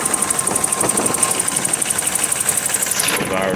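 A 1988 BMW 528e engine runs close by with a misfire on three cylinders, giving a rough, uneven pulsing idle with a fast ticking rhythm and a steady whine above it.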